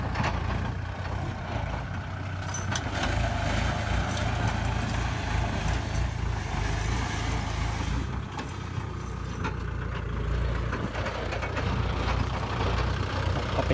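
A Kubota L5018 tractor ploughs a dry, harvester-rutted rice field with a continuous steady engine drone, loud and close throughout, with no speech.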